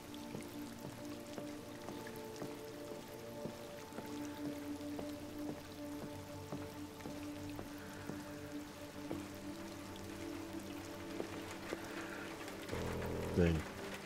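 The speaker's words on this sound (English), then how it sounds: "You shouldn't stand out in the rain" Rain in Detroit: Become Human falls as a quiet continuous patter with scattered drips, while voices talk over it and a brief louder thump comes near the end.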